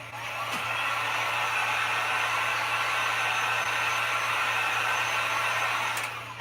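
A hair dryer blows steadily and loudly, close by, drying glue on a wooden bird house. A constant whooshing airflow carries an electric hum underneath and runs without pause for the whole stretch.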